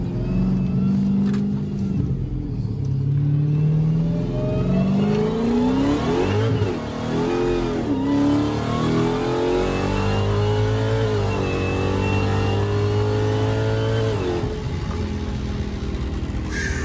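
A modified 1000 hp Dodge Hellcat with dual fuel pumps accelerates hard from inside the car, its loud, continuous engine roar climbing through several gear shifts with brief dips and surges over about seventeen seconds, with no talking.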